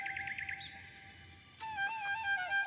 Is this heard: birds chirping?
yes